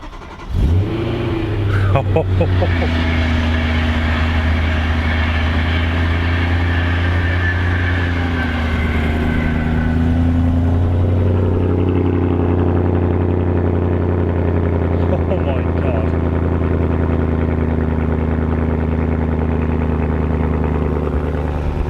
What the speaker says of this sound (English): I can already tell that is a much throatier tone to the exhaust